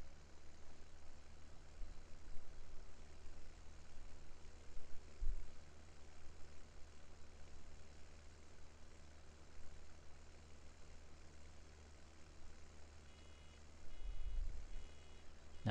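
A 95-horsepower Massey 699 tractor in Farming Simulator 17 idles with a low, steady engine rumble, quiet and continuous, with a couple of brief louder thumps along the way.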